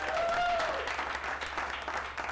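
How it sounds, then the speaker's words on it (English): Applause from a comedy club audience at the Carson Comedy Club, a steady dense patter of clapping lasting the whole stretch at moderate level with a brief tonal whistle early on. "so give him a round of applause for that."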